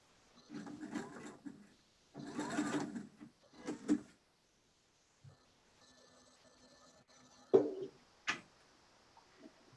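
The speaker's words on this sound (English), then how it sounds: "then flip it all around and sew it" A sewing machine stitches a zipper bag in three short whirring bursts over the first four seconds. A quieter stretch follows with faint hum and two sharp clicks near the end.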